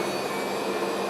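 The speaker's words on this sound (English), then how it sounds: "is the engines of this aircraft going into reverse." Aircraft engines spool into reverse thrust, a loud, steady broadband roar with a high whine running through it, heard alone without voices.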